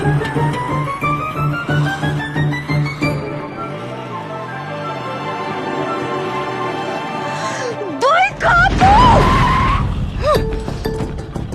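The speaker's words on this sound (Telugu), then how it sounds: "ఎందుకు బ్రేక్ వేసావు?" A car brakes hard over a speed breaker and its tires let out a high wavering screech near the end. The skid follows a long stretch of engine and dramatic background music.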